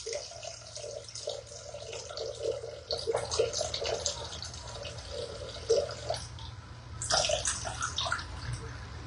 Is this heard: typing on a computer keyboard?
no